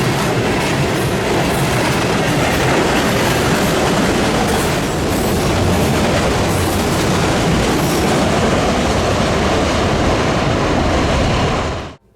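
A heavy freight train rumbles steadily past at close range, loud and continuous, with rhythmic clickety-clack of wheels on rails and occasional metallic squeals, ending abruptly.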